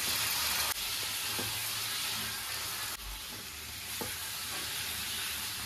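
Prawns sizzling in a pan with onion, salt, cumin and other ground spices for a bottle-gourd prawn curry, a steady close frying hiss broken by a few stirring scrapes, with no voices.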